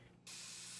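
Aerosol spray from a can, used in the game Yaz Arabam: a short, loud, bright hiss bursts on suddenly after a brief quiet moment and holds steady to the end.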